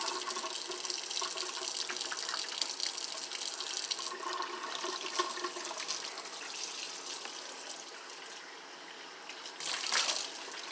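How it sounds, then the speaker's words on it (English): Tap water runs steadily from a faucet into a sink while someone rinses their face at night, a continuous splashing rush with a brief louder burst near the end. "I'm going to go ahead and rinse this bad boy off."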